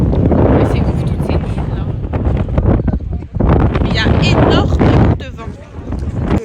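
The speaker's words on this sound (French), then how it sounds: "Il y a énormément de vent." Strong desert wind sweeps over the dunes by the Cairo pyramids, roaring and buffeting the microphone in bursts while a person talks through it.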